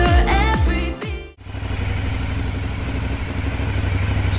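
A 2021 Aprilia Dorsoduro 900cc supermoto gives a few quick throttle blips, close and loud, then settles into a steady, throbbing idle.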